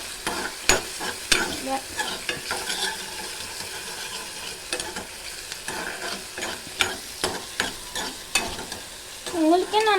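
Tomato and onion frying in a pan with repeated scraping stirs, a soft sizzle under sharp, irregular spatula strokes, close and fairly quiet, with no talk.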